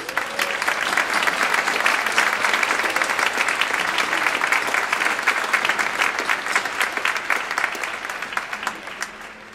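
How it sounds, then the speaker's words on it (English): Concert audience applause at the Wennberg Music Festival, a loud, dense, even wash of clapping hands that holds steady for nearly ten seconds before tapering slightly. "Please give them a big round of applause."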